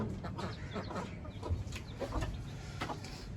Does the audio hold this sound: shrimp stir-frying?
no